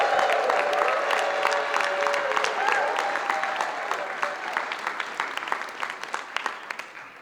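A comedy club audience at a comedy festival applauds comedian Chip Nicholson, dense clapping with a few cheers that starts strong and gradually fades as he takes the stage.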